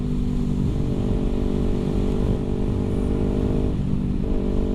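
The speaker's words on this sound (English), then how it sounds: "Let's test it." A Kawasaki Ninja 250R motorcycle engine drones loud and close, holding a steady buzzing note with slight swells in pitch as it accelerates, and no voices are heard.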